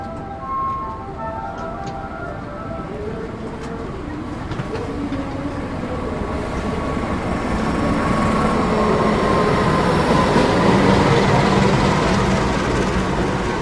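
A passenger train hauled by a CC 206 diesel locomotive rolls into an Indonesian station from the west, with a deep rumble and engine drone building steadily louder and closer, plus faint squeals and rail clatter.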